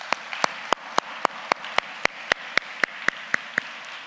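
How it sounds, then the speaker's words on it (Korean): A church congregation claps during a worship service: crisp, evenly spaced claps in steady unison rhythm, about four per second, at moderate volume over a quiet hall. "다시 한번 감사의 박수를 한번"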